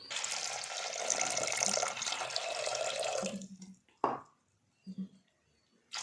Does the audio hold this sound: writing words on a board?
no